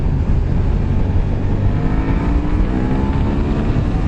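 Suzuki SV650 motorcycle engine held at high revs on the road, a loud continuous rumbling drone with wind buffeting throughout and no speech.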